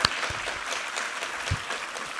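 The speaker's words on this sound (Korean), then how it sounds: "우리 하나님께 감사와 영광의 박수 올려드리겠습니다." A church congregation applauds during a Sunday worship service, giving steady, dense clapping that carries through the whole moment at a moderate, roomy distance.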